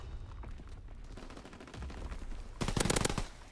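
Machine pistol fire in Call of Duty WW2, a loud rapid automatic burst near the end after quieter, distant shots earlier.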